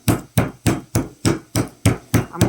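Meat mallet pounding a trimmed chicken breast flat for chicken cordon bleu, eight sharp even thuds about a third of a second apart, close and loud with no talk.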